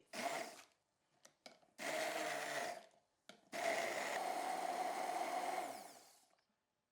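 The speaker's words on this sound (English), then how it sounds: "I'm going to use this hand blender to blend it all together into the smooth paste." A hand blender whirs in short bursts, then runs in two longer stretches, a steady buzzing motor grinding thick kimchi paste smooth, close up.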